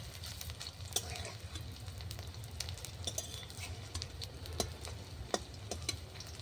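Beef kebab patties fry in oil, giving a faint, steady sizzle with scattered small pops and ticks throughout.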